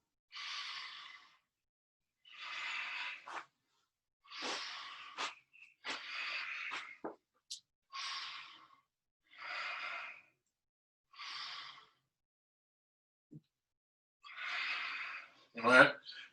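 Slow, deep breaths in a guided breathing exercise, about a dozen soft airy inhales and exhales spaced evenly with silent pauses between them, heard close and alone, ending in a louder rushing breath.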